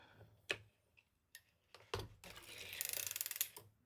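A hand-cranked circular sock machine knits Kevlar yarn slowly, giving off scattered mechanical clicks and ticks that build into a quick rattling run of ratchet-like taps near the end, close and fairly quiet.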